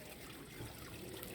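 A shallow stream in a Tokyo park flows over exposed stones, a soft, faint, continuous trickle of water with no voices.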